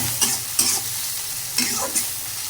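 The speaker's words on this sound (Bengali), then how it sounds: "তো এখন ভালো করে ভাজে নিব।" Taro sizzles in hot mustard oil in a pan as it is stirred, with several sharp scraping stir strokes spaced through a soft steady frying hiss, close and fairly quiet.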